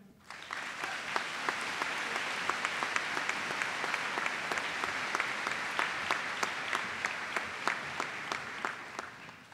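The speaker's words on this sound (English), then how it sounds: "It's always great to get applause before you even start speaking." A graduation audience at Monona Grove applauds to welcome the University of Wisconsin-Madison Dean of Students, sustained loud clapping with sharp individual claps standing out from a dense, even roar.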